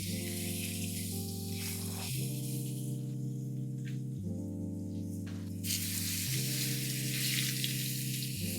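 Food sizzles and spatters while frying in hot olive oil in a home kitchen, a steady close hiss layered over a constant humming drone, with no talking.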